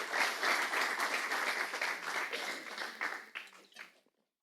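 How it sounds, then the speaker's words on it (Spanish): A church congregation applauds, the dense clapping loud and continuous for about three seconds before thinning to a few scattered claps and fading to silence. "dale un aplauso a la palabra del Señor"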